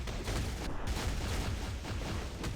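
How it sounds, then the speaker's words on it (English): A dense, rumbling explosion from Juggernaut's skill in the game Marvel Future Fight, a sustained crackling barrage of booms filling the whole span, loud and continuous with no talk. "that explosion at the end, I think that's from the 5th skill"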